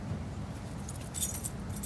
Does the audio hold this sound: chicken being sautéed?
no